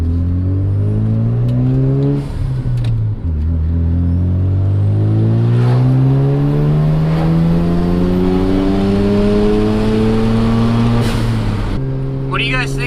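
Mazda RX-7 FD rotary engine pulls hard through the gears while driving, loud and close, its pitch climbing steadily with a shift break and a drop near the end.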